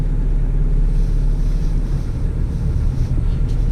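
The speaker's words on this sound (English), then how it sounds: "You certainly hear the traffic." Continuous low roar of road traffic near a track in Australia, loud and steady, mixed with wind noise against the microphone.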